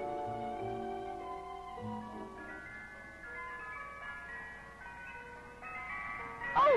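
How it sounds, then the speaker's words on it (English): An ice cream truck's music-box jingle plays a bright, tinkling melody of repeating notes, heard at moderate distance in a quiet neighborhood, with a brief louder bump right at the end. "Oh, boy! An ice cream truck!"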